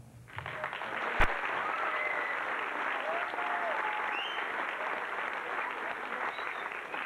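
An audience at a 2001 Christmas musical, The Little Match Girl, claps in sustained, dense applause that starts suddenly and continues evenly, with a sharp single knock early on.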